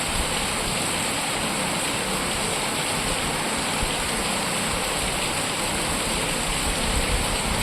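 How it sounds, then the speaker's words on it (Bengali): Heavy rain falls steadily and close by as a dense, continuous hiss and patter that holds at an even level throughout, with no voices. "এই বৃষ্টির আওয়াজটা আমার কিন্তু দারুণ লাগে দুর্দান্ত লাগে"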